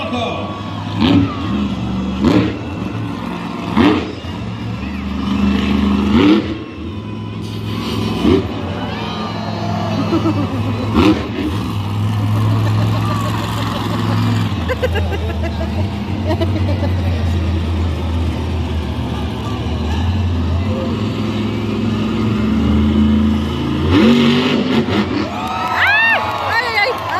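El Toro Loco, Armando Castro's monster truck, revs its engine loudly at Monster Jam in Salinas, California, with repeated throttle bursts and sustained roaring beneath an announcer's commentary and a cheering stadium crowd.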